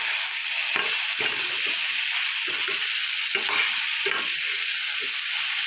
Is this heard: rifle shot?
no